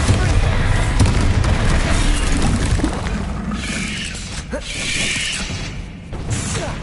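A Bombarda blasting spell goes off in Hogwarts Legacy on PS5: loud, heavy booming bursts and rumbling crashes fill a dense, continuous game soundscape.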